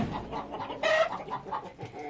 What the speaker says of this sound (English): So he's a big boy rooster, that one.